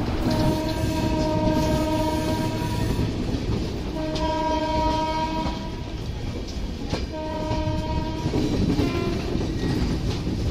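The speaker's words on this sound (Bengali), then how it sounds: "ট্রেন স্টেশনে ঢুকছে" A train pulling into NJP railway station, a steady low rumble of rolling cars with sustained horn tones sounding several times across the clip, close and continuous, no talk.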